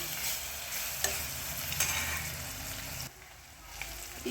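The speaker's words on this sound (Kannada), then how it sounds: "ಬೆಳ್ಳುಳ್ಳಿ ಪೇಸ್ಟ್ ಹಾಕೊಳ್ಳೋಣ." Garlic paste frying in a pan with browned onions, a close, continuous sizzle with a few spatula scrapes before it quiets suddenly near the end.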